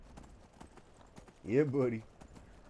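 A horse in the game Skyrim clip-clops along with soft, steady hoof taps, broken by a brief louder snort-like burst while someone talks over it.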